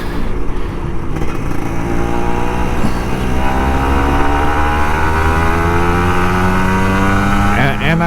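Kawasaki Ninja RR 150 two-stroke motorcycle engine revving loudly and steadily on a morning ride, pitch climbing through gears in a continuous close drone with wind noise.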